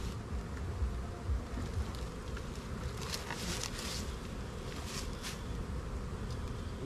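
Honey bees buzz steadily and densely all around while colonies are split into five-frame nucs, a continuous close hum with no pauses and no talking.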